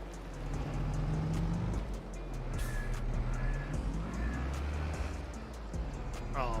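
A truck drives past in Farming Simulator 22 on a rural farm map, a steady low engine rumble running the whole time with faint whining tones above it, while someone talks over the game.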